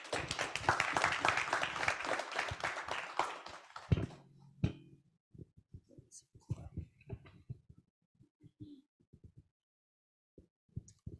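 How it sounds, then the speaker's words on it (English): An audience at an entrepreneurship pitch event breaks into dense applause that fills the first four seconds, then dies away as a voice begins speaking over a quiet room. "another round of applause for our very own Mohamed"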